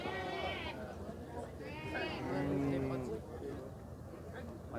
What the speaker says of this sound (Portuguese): Tá com essa paridinha aí, essa ovelha.